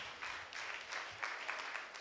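A congregation at a Sunday church service claps hands in quiet, fairly steady bursts of patter, heard faintly from some distance.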